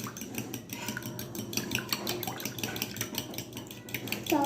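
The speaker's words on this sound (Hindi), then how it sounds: "और इन तमाम तीनों चीज़ों को अच्छे से मिक्स कर लेंगे।" A spoon clinks and scrapes steadily against a bowl while vanilla essence and cinnamon powder are mixed together for French toast, a close, rhythmic tapping with no talking.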